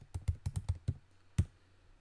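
Someone types on a computer keyboard, entering a web query: a quick burst of about six crisp keystrokes, a short pause, then one final tap, close and clear with no talking.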